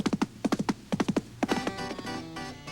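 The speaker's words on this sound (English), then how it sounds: "But what Jesse probably used was his horse." Horse hooves clip-clop in a quick, steady rhythm, about a dozen sharp clear hits close by, followed by a brief stretch of tonal, ringing sound behind them.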